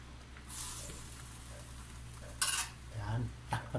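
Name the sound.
lid being put back on a cooking pot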